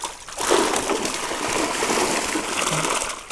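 Broad, continuous splashing and sloshing of water from crucian carp thrashing in a keepnet, busy and close, with churning bursts throughout and no voices.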